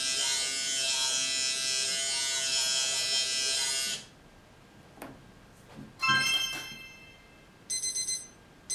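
An electric shaver buzzes steadily for several seconds, then stops, followed by a few faint clicks and brief bursts of other sounds.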